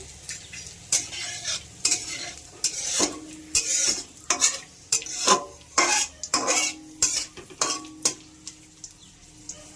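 Asafoetida tempering sizzling in hot oil while a utensil stirs and scrapes the pan, producing irregular bursts of clinking and scraping over a steady soft hiss, close up.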